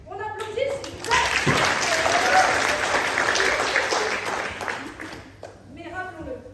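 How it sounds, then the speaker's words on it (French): An audience at a RYLA 2023 talent evening bursts into dense, sustained applause that swells quickly and holds steady for several seconds before tapering off, with a voice speaking briefly at the start and end. "On applaudit, s'il vous plaît."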